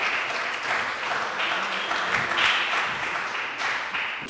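Audience applause at an Urdu mushaira poetry gathering in Wimbledon, a steady, moderately loud burst of many people clapping, holding evenly and easing slightly toward the end.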